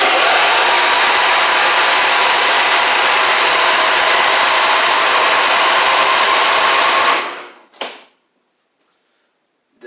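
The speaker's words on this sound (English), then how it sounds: "we're going to see if we can get this thing to crank over" A Briggs & Stratton V-twin engine on a Husqvarna YTH24V48 riding mower cranks over with a loud, steady whirring drone for about seven seconds, then cuts off abruptly, leaving a brief click and near silence.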